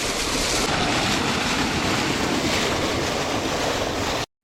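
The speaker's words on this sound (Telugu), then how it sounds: "మోటార్ కూడా ఆన్ చేసి నీళ్ళు ఎట్లా వస్తాయి మొత్తం" A water pump motor runs with water gushing out in a steady, loud, continuous rush that cuts off abruptly at the end, with no talking.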